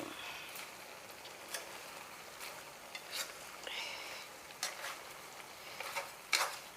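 Shrimp and mushrooms stir-fried in a pan make a soft continuous sizzle, broken by irregular scraping and clacking strokes of the spatula against the pan.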